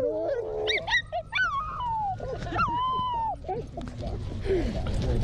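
A small dog whimpers and yips in high, wavering cries with short sharp yelps, close by, while people talk faintly in the background.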